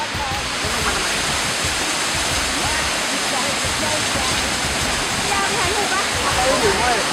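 A waterfall in the Suan Luang Siribhum park gives a steady, dense rushing roar that fills the whole stretch, while people talk over it.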